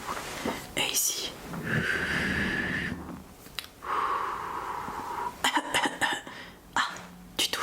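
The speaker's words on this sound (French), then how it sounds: "Ah, tu tousses. Ah oui, j'entends ça." Through a stethoscope during a doctor's examination, a patient with a bad sore throat breathes in long muffled draws, then coughs in several short, sharp bursts near the end, with some voice sounds in between.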